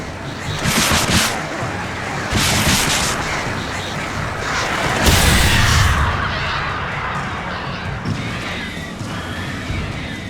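Flare gun blasts in Alan Wake, several loud booming bursts with hissing trails spread over the stretch, under a voice talking.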